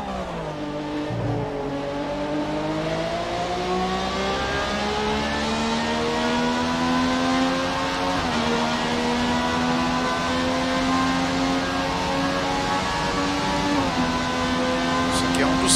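A Ferrari 458 Spider engine in a racing video game, played on a Thrustmaster Xbox One wheel, revs steadily through the gears with steps between them, under a voice counting in Portuguese.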